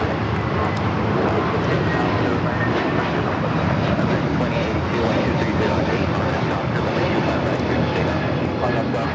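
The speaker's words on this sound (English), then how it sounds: "This is JetBlue 424 taking off to JFK on the A321neo" Broadband roar of a JetBlue Airbus A321neo jet on its takeoff run at LAX, steady and loud throughout with people talking underneath.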